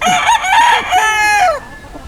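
One loud, close rooster crow rings out in a long harmonic call that rises, holds, then trails off, followed by a quiet pause.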